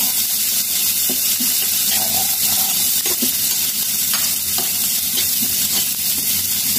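Onion and garlic sautéing in a pan, a loud continuous sizzle with scattered stirring clicks and scrapes throughout, close up and with no one speaking.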